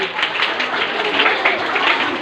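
An audience at a school quiz competition claps in a dense, steady round of applause, loud and close, lasting a couple of seconds.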